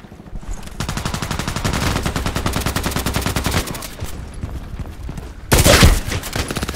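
A Kedr SMG fires in Contract Wars in long rapid automatic bursts, a dense rattling stream of shots lasting several seconds, loud and close, followed by a short louder burst near the end.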